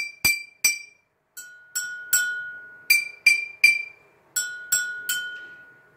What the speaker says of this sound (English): listen to the difference in pitch between the bottles